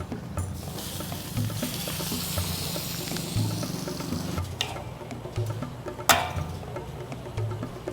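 Horse meat marinated in salt and vinegar is sautéed in a pan, giving a steady close sizzle with crackling and hiss. A brief clatter and a sharper pop stand out over the frying.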